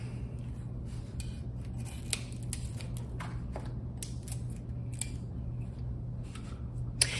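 Scissors snipping small pieces off a sublimation wrap for a mug, a few faint, brief clicks and cuts scattered over a steady low room hum, no talking.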